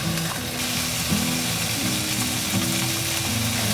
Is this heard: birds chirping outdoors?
no